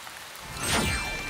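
Rain falls steadily on a surface, a close hissing wash that swells slightly toward the end.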